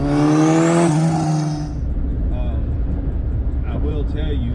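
An RCC Turbo motorcycle engine revs loudly and close for over a second with a rising, harmonic-rich whine, then cuts off, leaving a lower idling rumble while a person talks over it.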